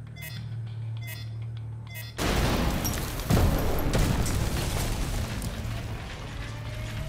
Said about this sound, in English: The explosion should cause a cave-in that'll put you just inside the wall of the base.